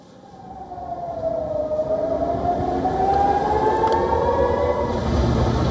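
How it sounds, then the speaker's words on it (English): Air raid sirens wail across Tel Aviv, one long tone sliding downward and then rising again over dense, steady rumbling background noise that grows louder over the first seconds. "Israelis could be seen taking shelter as sirens sounded in the background."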